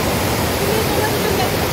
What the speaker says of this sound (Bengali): দেখুন, আপনাদেরকে একবার দেখাচ্ছি ফলসের ধারা কিভাবে নেমে আসছে।